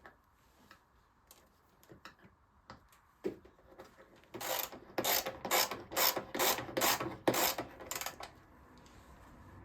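Mechanical ratcheting while exhaust fittings are tightened on a Yamaha WR 400 F dirt bike, faint scattered ticks at first, then a loud, rapid run of closely spaced clicking bursts near the mic, with no talking.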